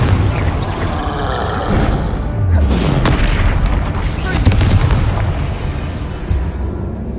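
Fiery Confringo spell blasts in Hogwarts Legacy set off a run of loud booming explosions, one after another over continuous combat rumble, with bursts and pops layered close together.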